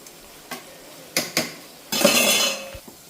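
Pieces frying in a pan of hot oil, with a few sharp metal clinks of a utensil against the pan followed by a brief, close burst of sizzling and stirring.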